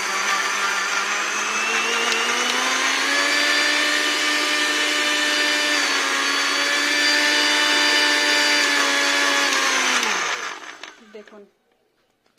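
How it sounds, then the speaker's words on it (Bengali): A mixer grinder jar grinds a paste for khoshla bora, a steady, loud, high motor whine that runs unbroken for about ten seconds. Near its end the motor winds down quickly and falls silent. "এই দেখুন মিক্সারে ভরে দিলাম, মিক্সি জারে। এবার এটাকে ঘুরিয়ে নেব, সুন্দর করে পেস্ট বানিয়ে নেবো একটা।"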